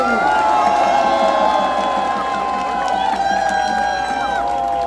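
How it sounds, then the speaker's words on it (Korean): A large crowd at a presidential election campaign rally outside Seoul Station cheers and applauds, a loud sustained roar of voices with shouts and whoops over continuous clapping. "여러분 박수 한번 크게 보내주세요."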